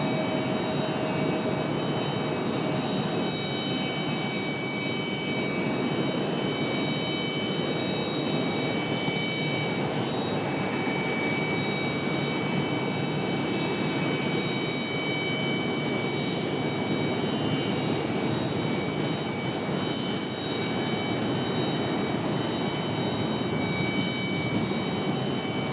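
United Express regional jet operated by Republic Airways taking off from runway 5 left at Raleigh-Durham in the evening, a steady distant engine roar with high whining tones held throughout.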